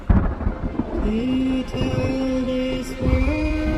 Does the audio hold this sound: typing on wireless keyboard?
no